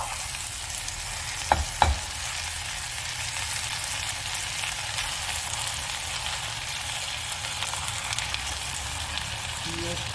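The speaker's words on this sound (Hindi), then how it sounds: "चिकन को आप भून लें" Chicken pieces frying in a pan for a Madras-style curry, giving a steady close sizzle throughout with two sharp clinks near the start, no talking.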